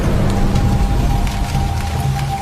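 Rain drums on a car in the jungle of Banco National Park in Abidjan, a dense steady patter over a low engine hum, loud and continuous throughout.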